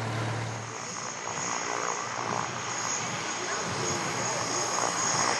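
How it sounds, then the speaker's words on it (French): A small airplane at Le Mans heads out onto the tarmac for takeoff, its propeller engine giving a steady, loud, broadband drone throughout, with a low hum at the start and possible voices underneath. "Antoine prend la direction du tarmac pour un premier vol au-dessus du Mans"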